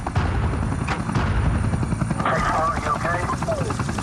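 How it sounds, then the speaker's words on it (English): A Black Hawk helicopter flying with a constant loud rotor and engine roar, close and dense throughout, joined by scattered bursts of gunfire and someone speaking over the din. "A second helicopter, Black Hawk Super 6-4, piloted by Mike Durant, is hit."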